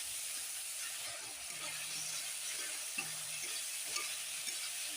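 Chopped onion, tomato, ginger-garlic paste, salt and sugar fry in hot oil with a steady soft sizzle and hiss, broken by a few light stirring scrapes.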